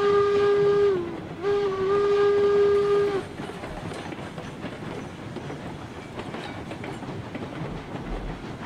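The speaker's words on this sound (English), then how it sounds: "Train moving." Steam locomotive moving in the game RailRoads Online, opening with two loud whistle blasts followed by steady clattering and chuffing of the train rolling along, with no speech.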